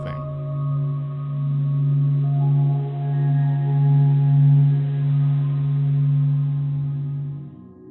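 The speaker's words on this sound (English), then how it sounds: "The sounds you heard in this piece were sonified by the Stanford Experimental Physics Lab." Low, steady droning hum made from SOHO spacecraft measurements of the Sun's oscillations, a sustained tone with soft overtones that swells gently throughout and fades out at the end, with no voices.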